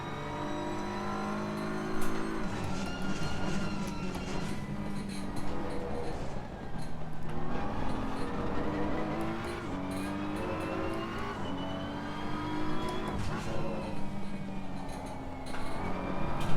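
A BMW race car pushed hard around the Laguna Seca circuit: a loud, continuous engine roar climbing in pitch through each gear and dropping sharply at every shift, heard from close by with no voices.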